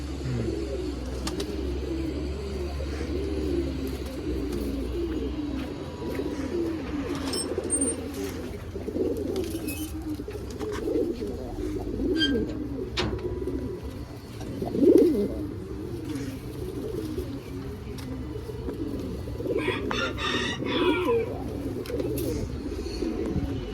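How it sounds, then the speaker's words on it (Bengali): Pigeons coo continuously in a low, rolling chorus at a home loft, with scattered clicks and a short burst of higher chirping near the end over steady background noise. "এই যে এটা আমাদের কিনা কবুতর"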